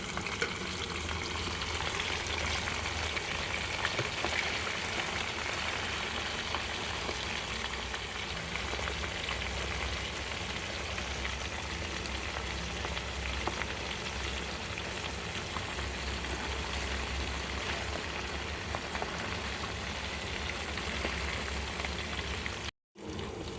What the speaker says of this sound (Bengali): গরম তেলে একটু ভেজে নেব মাছগুলো দিয়ে দিলাম তেলে